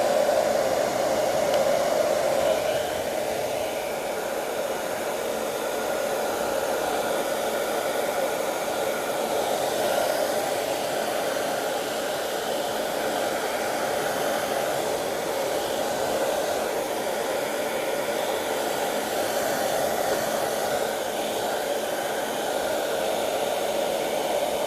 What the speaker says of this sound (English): I'm going to use a hairdryer on a cold setting